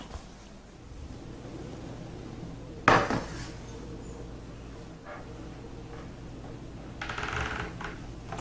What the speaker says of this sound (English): my brother Antoine will get the pan and induction stove ready